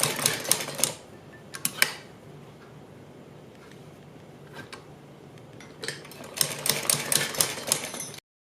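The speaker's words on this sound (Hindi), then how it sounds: "इस तरह से हम इस साइड बिल्कुल बारीक सी इस तरह से ये जगह छोड़ते हुए तब हम इसके ऊपर इस तरह से सिलाई लगाएंगे" A sewing machine stitches a neck design on a garment, giving a rapid, dense mechanical clatter in two loud bursts at the start and end, with a quieter stretch between and no talking.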